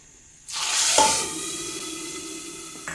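Curry leaves and asafoetida hit hot tempering oil for a sambar, bursting into a loud, close sizzle that peaks quickly and then settles into a steady, fading hiss, with no voices.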